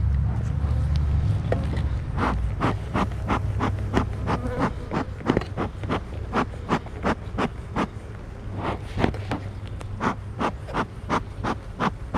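Honeybees drone around an open hive during an inspection for honey, nectar, pollen and brood, a low continuous buzz broken by a quick run of sharp clicks and knocks from handling.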